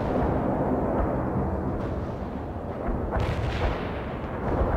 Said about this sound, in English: Artillery strike is inbound. Avoid the strike area.